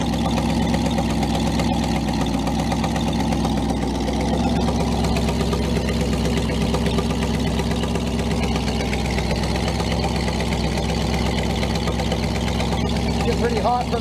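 A steady engine idles throughout with a continuous low rumble and faint rhythmic knocking, close and fairly loud.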